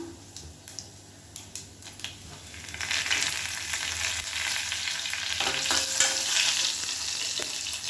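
Curry leaves hitting hot oil for a tamarind vathal kuzhambu, starting with a few sharp taps and scrapes, then a loud, steady crackling sizzle that holds close and continuous to the end.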